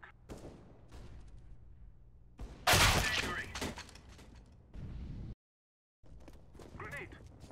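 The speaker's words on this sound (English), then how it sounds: "I'm throwing a flashbang." Flashbang grenade going off in Counter-Strike: Global Offensive, a loud harsh burst with a crackling tail among other game noises and brief silence, with talking nearby.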